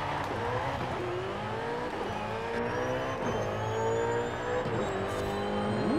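A 2020 Ferrari SF90 Stradale hybrid in a racing video game accelerates steadily, its engine note climbing through several gear changes at moderate volume, with no talking.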